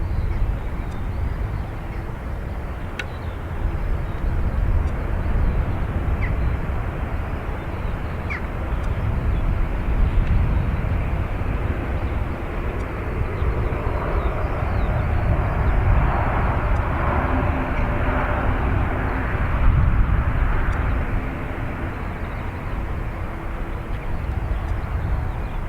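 British Airways and TAP airliners taxi at Dublin Airport near the north runway, a steady broad jet engine roar that swells and eases. Faint bird calls come through now and then.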